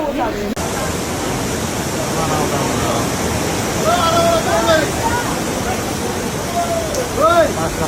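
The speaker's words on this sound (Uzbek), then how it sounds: "Shunaqangi yomon yomg'ir yog'ayapti" Steady heavy rain pours down in a dense broadband hiss, with voices talking over it in short stretches.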